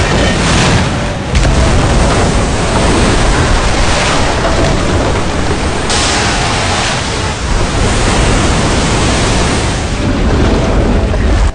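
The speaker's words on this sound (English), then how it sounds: "The torrential flood gushed out wildly, submerging the enemy troops in an instant." Torrential flood water gushing out wildly in a battle scene, a loud, continuous, dense roar of rushing water lasting throughout, with no voices.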